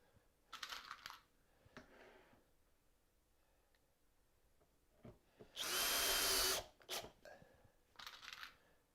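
A power driver sinks screws into a wooden keepsake box in two whirring bursts, one short and one longer and louder, among quieter clicks and handling noises, close by.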